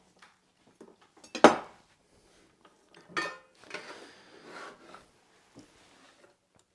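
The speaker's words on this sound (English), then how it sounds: "just give it a rough chop just to help it go down in the food processor" A knife roughly chops food on a board before it goes into a food processor, giving a few sparse, dry thuds and scraping rubs with quiet gaps between them, close and soft, with no talking.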